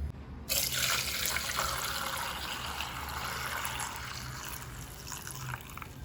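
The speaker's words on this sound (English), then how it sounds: "now we need to strain it to remove any dirt which might be inside" Melted jaggery liquid is strained while making Goan dodol, a coconut and jaggery sweet. After a brief quiet start, a steady pouring and trickling flow runs close and fairly loud without pause, with no voice.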